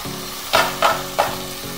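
Onions frying in hot oil for mutton biryani, a steady sizzle broken by three scraping stirs at even intervals, close and clear with no talk.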